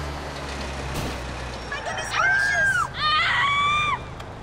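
Two rising, wavering screams in the video game Grand Theft Auto IV stand out over a low rumble of street traffic, each lasting under a second.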